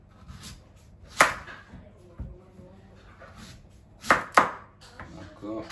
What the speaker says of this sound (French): Donc là, on va couper ça en rondelles.